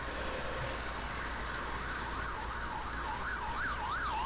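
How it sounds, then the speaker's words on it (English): An ambulance siren on a street in Mabalacat, heard from a motorbike, rises out of steady road and engine noise and grows louder and clearer toward the end as the wailing, sweeping tone approaches. "That's a second ambulance since I got out."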